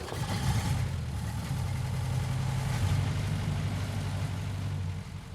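A vintage car engine, started by hand-crank, runs at a steady low idle with a loud, even rumble throughout before easing off at the end.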